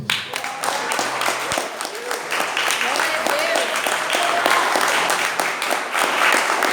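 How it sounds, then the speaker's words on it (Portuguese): A church congregation applauds in a dense, continuous spread of clapping that holds steady for several seconds, with voices faintly mixed into the crowd. "Você pode aplaudir a Jesus."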